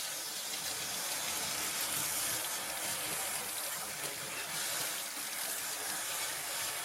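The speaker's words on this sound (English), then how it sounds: "So I'm going to wash this off and see what it looks like." Water runs steadily from a tap while a dyed 40 oz tumbler is rinsed beneath it, a continuous close hiss and splash with no talking.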